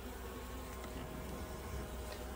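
Bees humming at a hive during a subarctic colony inspection, a steady, dense buzz that fills the clip without pause, close by and alone with no voices.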